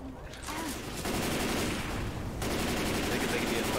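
Video game gunfire rattles out in rapid, sustained automatic bursts during a zombie-horde shooter fight, loud and close, with a brief gap before the firing resumes and continues steadily.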